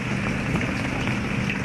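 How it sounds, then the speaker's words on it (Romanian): Steady rain falling hard in a yard in Târgu Neamț, a dense, even hiss of drops on surfaces with no pauses, close and fairly loud. "O ploaie rapidă?"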